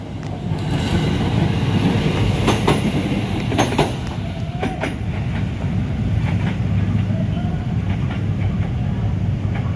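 A train runs past on the tracks near a level crossing, a loud continuous rumble with rhythmic wheel clatter and a few sharp metallic squeals, close by and steady throughout.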